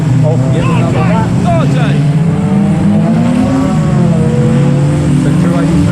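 A race car drives hard around the far side of a raceway, its loud engine note rising and falling continuously while a commentator talks over it.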